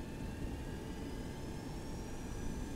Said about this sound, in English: we're going to go ahead and advance the throttles to half